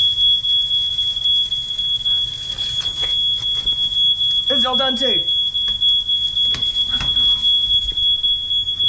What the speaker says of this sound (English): The fire alarm is raising again.